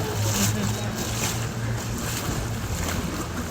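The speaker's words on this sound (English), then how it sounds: "we pass by another boat" A tour boat glides along the San Antonio River while another boat passes close by, a steady low engine drone and washing water running continuously, with wind buffeting the microphone.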